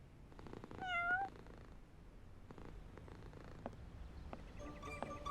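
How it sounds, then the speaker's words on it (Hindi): An animated cartoon cat gives two short, clear meows, one early and one at the end, over a low background hiss with no talking. "मगर ये तो बिल्ली है।"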